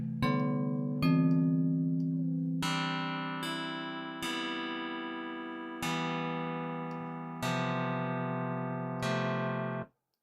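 A Logic Pro Sculpture synth patch with no side chain plays a sequence of bright, buzzy sustained chords, each new one striking sharply and decaying slowly, loud and alone before cutting off abruptly.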